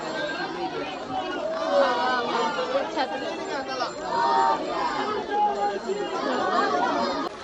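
Dense crowd chatter at a Ganesh immersion procession, with many overlapping voices forming a steady, close, busy hubbub that swells and dips throughout.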